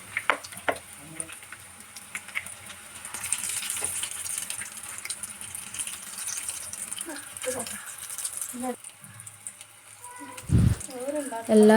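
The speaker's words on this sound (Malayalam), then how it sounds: "ഓരോ ബോളും എണ്ണയിലിട്ട് ഫ്രൈ ചെയ്തെടുക്കാം" Quail egg kebab balls fry in hot oil with a steady, soft sizzle, punctuated by occasional clinks and stirring noises and a louder bump near the end.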